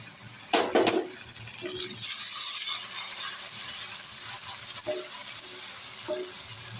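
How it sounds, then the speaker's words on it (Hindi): Onions fry lightly with garam masala in a pan for a chicken and capsicum dish, giving a steady soft sizzle. A few metallic spoon clinks against the pan come early, and no one speaks. "हमने प्याज थोड़ी बस हल्की सी फ्राई करनी है, इसका कच्चापन ख़त्म करना है"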